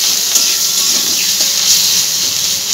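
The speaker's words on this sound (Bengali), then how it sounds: "তেলে দেওয়ার সঙ্গে সঙ্গে পেঁয়াজটা খুব ফুটতে থাকে" Onion paste, squeezed of its water, spits and hisses in hot oil, a bright continuous sizzle heard close and loud throughout.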